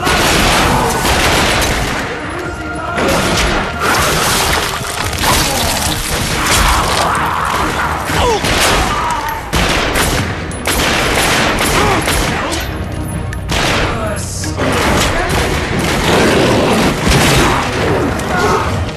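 Heavy gunfire in The Darkness II, relentless bursts of automatic shots and booms stacked on crashes and impacts, loud and close for the whole stretch with barely a pause.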